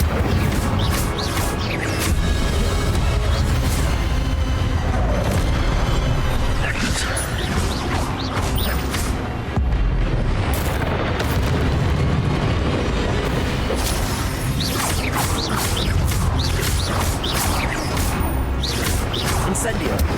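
Fiery spell blasts from the Incendio charm in Hogwarts Legacy burst over and over amid loud, dense combat noise, with crashes, booms and impacts filling the whole stretch and game voices calling out spells.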